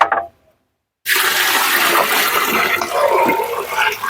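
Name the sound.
water being poured into a barrel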